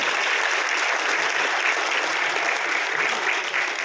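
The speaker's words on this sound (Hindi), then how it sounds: "मैं चाहता हूं जोरदार ताली HHI के नाम के ऊपर होनी चाहिए, जोरदार" Loud, dense applause from a stage event audience, sustained and even for the whole few seconds with no pauses.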